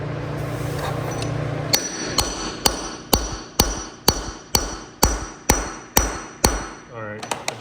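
A hammer strikes an anchor bolt during a two-post lift install, about twelve sharp metallic blows at a steady rhythm, close and loud with ringing tails, then a brief rattle.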